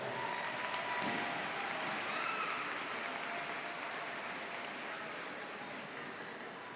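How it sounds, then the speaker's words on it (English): Soft, steady applause from an audience at an end-of-year school awards assembly, honoring long-serving volunteers; a distant, even wash of clapping that holds throughout and fades slightly toward the end. "Let's give them a round of applause."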